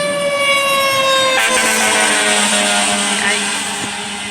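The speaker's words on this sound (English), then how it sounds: "here comes an ambulance, I think, or fire truck" An ambulance or fire truck siren wails loudly and close by, its steady tone shifting into a broader, rising blare as the emergency vehicle passes, with traffic noise underneath.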